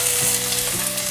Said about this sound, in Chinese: 把福菜炒香